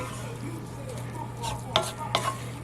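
A spoon stirs runza filling with drained sauerkraut in a pan, giving soft scraping and faint sizzling, with two sharper clinks of utensil against the pan near the end; no talking.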